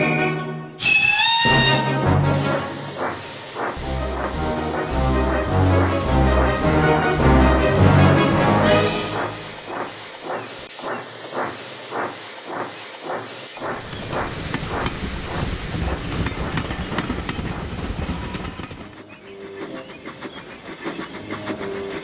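A steam locomotive sets off with its train, loud rhythmic chuffs and clanks starting slowly then quickening, with a hiss near the start and a quieter fading rumble toward the end.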